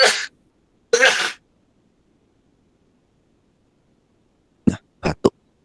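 Two harsh coughs sound close up, then after a quiet pause three quick, shorter coughs follow in succession.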